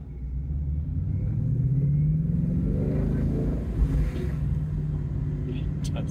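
A 2016 Ford Mustang 5.0 GT V8 with manual transmission rumbles and revs up loudly nearby, a deep throaty roar rising and settling while driving, with other traffic faintly in the background.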